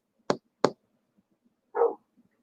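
A dog barking indoors, two sharp close barks in quick succession and then a short lower woof after a pause.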